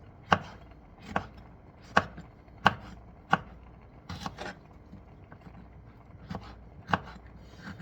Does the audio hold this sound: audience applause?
no